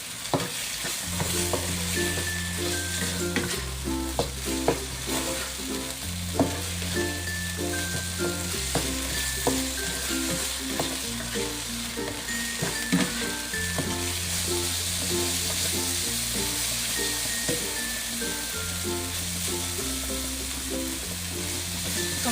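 Minced pork for kua kling is stir-fried until dry, with loud continuous sizzling and frequent scraping strokes of a spatula against the pan, under steady background music.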